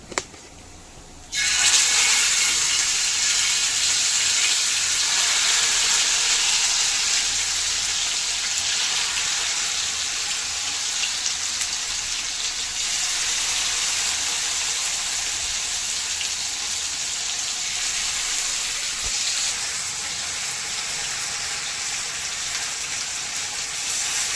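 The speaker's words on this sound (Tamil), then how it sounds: "மசாலா போட்ட மீனை இப்போ தவாலை போட்டு ஃப்ரை பண்ணுவோம்" Masala-coated fish frying on a hot tawa, an abrupt onset of loud, steady sizzling that crackles continuously and evenly from start to finish.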